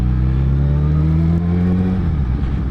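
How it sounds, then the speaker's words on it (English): A car passing on the road, a loud near engine hum whose pitch holds steady and then drops away as it goes by. "You really wouldn't think we're in lockdown, the amount of cars"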